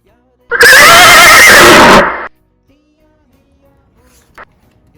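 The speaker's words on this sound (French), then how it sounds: "Un cheval." A horse neighs once, loud and close, a shrill whinny lasting under two seconds that shudders and falls in pitch before giving way to near silence.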